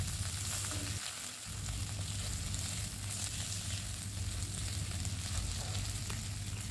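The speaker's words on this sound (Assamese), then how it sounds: "আলুখিনি অলপমান ফ্ৰাই কৰিম" Potatoes frying in a pan with mustard seeds, onion and chilli for an Assamese fish curry, a steady close sizzle running throughout with a brief dip early on, no voices.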